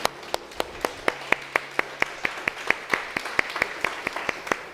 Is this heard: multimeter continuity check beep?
no